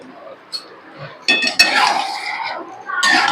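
A pan lid lifted off a pan of white gravy chicken, with a faint clink, then a louder metallic clatter and a hissing rush of steam and sizzle, close and brief.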